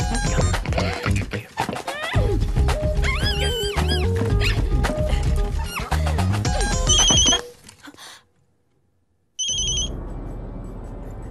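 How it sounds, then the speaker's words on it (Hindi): A telephone rings with two short bursts of electronic trilling in a Bollywood comedy film scene. The rings follow loud music and horse-like whinnies and are separated by a brief silence. "फोन है, बजेगा ही।"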